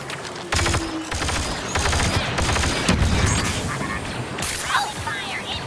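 Rapid bursts of blaster and rifle fire in a Star Wars Battlefront II battle on Geonosis, dense and loud, crackling in repeated volleys with shouts and chatter layered through the firefight.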